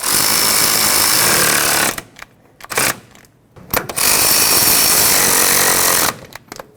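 A power tool rattles loudly in close bursts while tightening the brake caliper bracket bolts on a 2006-2010 Hyundai Sonata, three long impact runs separated by short quiet pauses and brief ratcheting.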